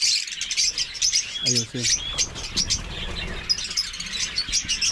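Birds chirping in a backyard poultry coop, many bright tweets and calls overlapping throughout with a brief low squawk, under faint talk.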